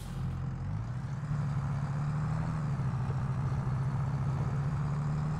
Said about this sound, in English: I think we're going to like this tractor.